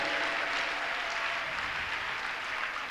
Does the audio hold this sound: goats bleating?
no